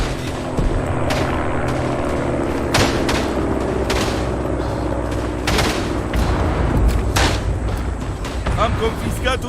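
Gunfire and explosive booms in the World War I shooter Tannenberg, a busy battlefield mix of rifle shots and bursts with aircraft-like drone underneath, steady and loud throughout while people talk over it.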